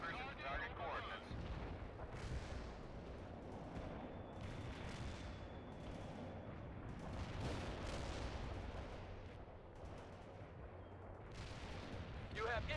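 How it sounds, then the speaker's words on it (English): Mortars fire in the military strategy game World in Conflict, with repeated booming thumps and rumbling blasts rolling continuously at mid distance under a dense layer of battle noise. "Zulu 9 are firing mortars at the target coordinates."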